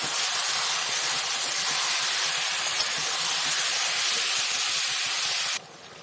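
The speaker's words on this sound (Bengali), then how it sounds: "ভালো করে কষিয়ে নেবো চিকেনটাকে" Mustard-marinated chicken sautés with browned onions in a pan, producing a loud, continuous hissing sizzle that drops abruptly in level just before the end.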